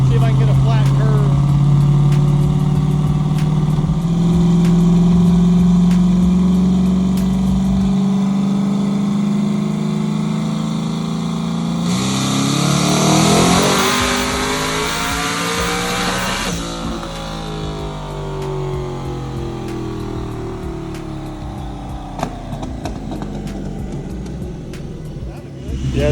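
A big-turbo 5.3L engine in a Mustang sits on a dyno, first idling with a loud droning rumble, then revving hard in a rising pull that peaks and falls back, with people talking over it.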